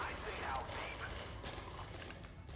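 A drill mechanism grinding through coal deep underground on an ice planet in the video game Drill Core, a steady, low mechanical rumble with faint clicking, fairly quiet and continuous.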